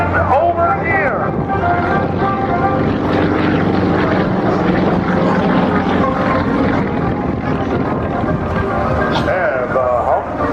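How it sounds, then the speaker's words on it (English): Two aerobatic airplanes perform at an air show, their propeller engines droning loudly and continuously with shifting pitch as they tumble overhead, while an announcer's amplified commentary runs over the noise. "Two tumbles up there in the sky as both airplanes tumble in over here."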